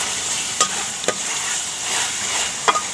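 Coconut worms stir-fried in a pan outdoors, sizzling steadily with a few sharp scrapes and clinks from stirring, close and fairly loud, no talk.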